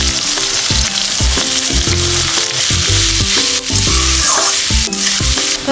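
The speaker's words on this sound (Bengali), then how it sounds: "তো আমি কুচিয়ে রাখা পেঁয়াজগুলো এবারে তেলের মধ্যে দিয়ে দেবো" Chopped onions frying loudly in a shallow layer of hot oil for mutton curry, a steady close sizzle with rhythmic stirring clatter throughout, no voices.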